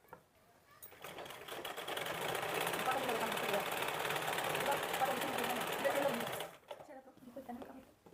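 A sewing machine stitches a kurti in one long continuous run, its motor whirring and needle rattling at a steady speed before stopping, with faint voices and room noise around it.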